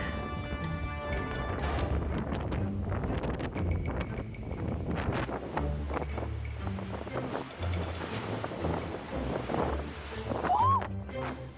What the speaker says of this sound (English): the storm was really blowing the water hard into the promenade of Dover